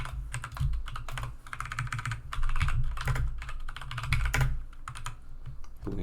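Computer keyboard typing code for a sudoku solver, with steady close-up keystrokes in a continuous stream over 6 seconds, with brief pauses and bursts of faster clattering.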